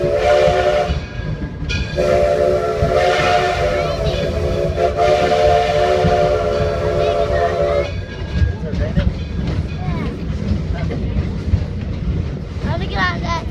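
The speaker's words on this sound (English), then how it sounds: "Locomotive number 1, which is pulling this train, the Edison" The Edison, a coal-fired steam locomotive pulling a passenger train, sounds a loud sustained whistle in several long blasts, then settles into hissing steam and rumbling rail noise.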